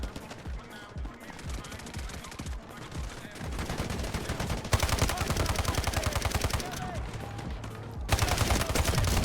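Rapid automatic gunfire from a firefight in the game Delta Force, dense bursts of shots hammering almost nonstop and growing louder, with voices talking over the shooting.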